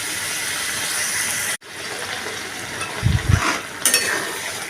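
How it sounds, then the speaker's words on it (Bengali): Coriander and green chili paste being mixed in a pan, a soft continuous sizzle with a few low scraping stirs and a brief break partway. "এটাকে আমি ভালো করে এবার মিশিয়ে নিচ্ছি।"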